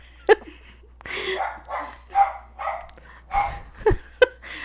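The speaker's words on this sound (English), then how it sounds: "Every day at 4 o'clock, the dogs decide they want to bark." Dogs bark repeatedly in the afternoon, a string of loud, irregular barks and yips spaced a second or so apart, fairly close by.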